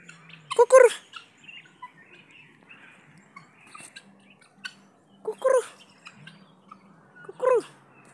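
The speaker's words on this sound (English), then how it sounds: "I think this bird is hungry because we have not here a lot of food here." Hungry kanga (guineafowl) calling outdoors in a Kenyan village, three loud harsh bursts spaced a few seconds apart, with quieter chirps and faint background sounds between them.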